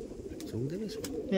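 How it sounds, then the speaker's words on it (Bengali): A pair of Mechia pigeons coo softly nearby, one low rolling coo rising and falling midway through, against quiet background sound. "এই দেখুন পায়রা দুটো, দেখুন খুবই সুন্দর লাগে।"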